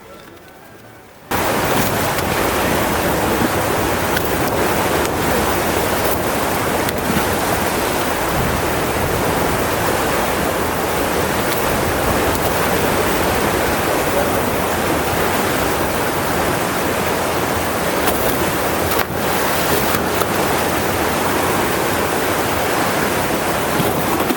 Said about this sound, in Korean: 뛰어올 때 물을 떠어뜨린 소리와 물소리가 대단하더라고요